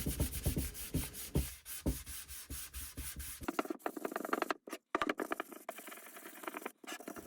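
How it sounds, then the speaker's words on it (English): Steady back-and-forth rasping of sandpaper on a solid wooden knife block, close and fairly quiet, with rhythmic strokes that turn lighter and more broken toward the end. "let's get back to sanding"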